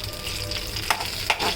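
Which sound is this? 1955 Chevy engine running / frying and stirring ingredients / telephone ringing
frying and stirring ingredients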